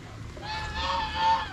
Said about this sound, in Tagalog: Ito yung mga bibe, peking duck, gansa.